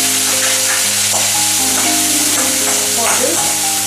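Garlic and tomato sautéing in a pan for a fish curry: a loud, dense sizzle over a steady low hum, with a few stirring scrapes along the way.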